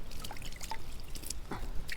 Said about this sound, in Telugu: మళ్ళీ వాటర్తో కడిగేద్దాం.